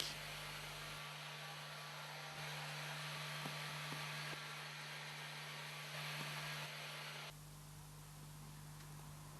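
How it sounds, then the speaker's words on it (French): A heat gun blows steadily while drying a pigment-adhesion product on car leather, giving a loud, even broadband rush with a low mains hum that continues for most of the clip before the airflow cuts off near the end. "Laissez sécher ou sécher au décapeur thermique."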